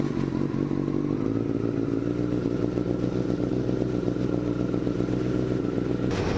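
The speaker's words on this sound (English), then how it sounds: "this is a cold startup of a 2011 CBR" A cold 2011 Honda CBR1000RR sportbike engine idles at a steady, loud, close rumble throughout, with mechanical clatter layered over the low drone and no talking.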